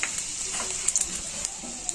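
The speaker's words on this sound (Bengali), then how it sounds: "তেলের মধ্যে অল্প একটু রসুন দিয়ে দিচ্ছি।" Grated garlic sizzling in a spoonful of white oil in a kadai wok, a steady close hiss with small bright pops and crackles scattered through it.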